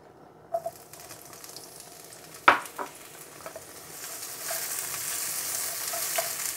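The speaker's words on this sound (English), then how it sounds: "We're going to stir fry this," Peppers and garlic stir-fried in a wok for chicken chow mein, a few sharp clatters of the spatula early on, then a steady hiss of sizzling that swells toward the end.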